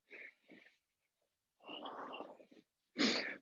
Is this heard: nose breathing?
yes